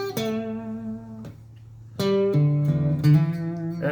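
Electric guitar plays the opening bars of a song's riff with a hammer-on and a slide. Notes ring clearly and alone, with a pause midway before a second phrase that slides up, close and fairly loud.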